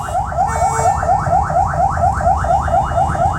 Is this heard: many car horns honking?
yes